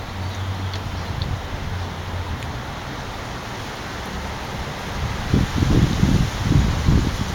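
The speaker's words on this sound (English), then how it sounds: "It's hot, but it's breezy." Outdoor breeze rustling leaves in steady broadband wind noise, growing louder and gustier toward the end, with no speech.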